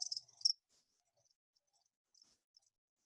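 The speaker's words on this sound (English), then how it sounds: "the whistling sound of a cricket" A cricket gives a few faint, high, thin chirps. There is a short cluster at the start and scattered softer chirps later, separated by near silence.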